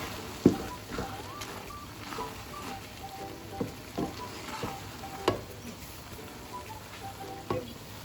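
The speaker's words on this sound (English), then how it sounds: "Make sure you stir all the way around because the liquid is drawing up and there's sugar in there is going to stick to the pan." A spoon scrapes and knocks around a pan of sugary carrot halwa as the liquid cooks down, giving soft bubbling sizzle under irregular sharp taps, close but fairly quiet, without any voices.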